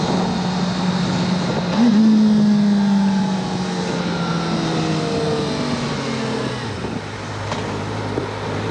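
A Kawasaki ZX-4RR motorcycle engine drones steadily while riding, its pitch dropping abruptly at quickshifter gear changes, with wind noise over the top.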